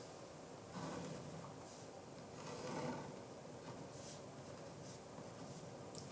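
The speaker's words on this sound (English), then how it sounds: "I'm going to draw 4 little graphs." Quiet scratching of a pen or pencil drawing small graphs by hand on paper, several short bursts of strokes separated by brief pauses, close up and alone.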